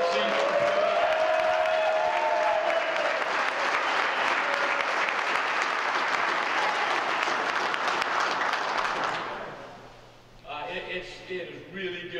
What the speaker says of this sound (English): It is really good to hear you clap so loudly for him